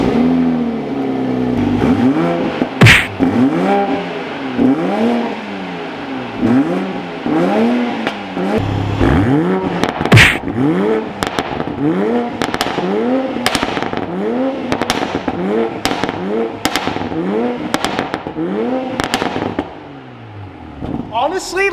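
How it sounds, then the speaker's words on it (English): A stock-exhaust Toyota Supra is revved repeatedly in comfort and then sport mode, a steady series of loud rising-and-falling engine sweeps punctuated by sharp exhaust pops and crackles, heard up close. "So this is a startup with stock exhaust. We're gonna rev it in comfort mode,"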